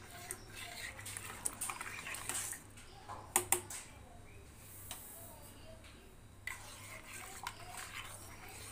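A spoon stirs sugar into whipping cream for homemade ice cream, giving a steady wet swishing with scattered clicks and scrapes against the container, close and fairly quiet, with no talk.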